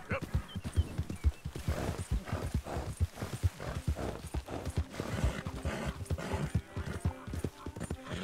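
Horse hooves clip-clopping in Red Dead Redemption 2, a quick steady rhythm of close hoofbeats with a brief whinny, alongside someone talking over the game.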